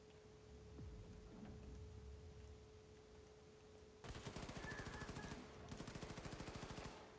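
Enemy gunfire in the video game Wolfenstein II: after a stretch of faint ambience, two long rapid bursts of automatic fire rattle in quick regular succession, distant and quiet.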